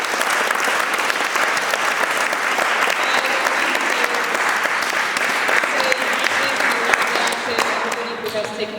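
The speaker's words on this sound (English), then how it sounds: "A big thanks to another round of applause to Franziska Kabrul." Sustained audience applause fills a church at the close of an evening talk on the British in Russia, a dense, even wash of many hands clapping that carries on steadily throughout before thinning slightly at the end.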